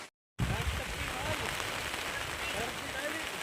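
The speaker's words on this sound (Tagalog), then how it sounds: "sobrang lakas po ng ulan" Heavy rain pours down steadily on Happy Island, a dense, loud and continuous hiss of drops beating on surfaces close by, after a brief moment of silence at the start.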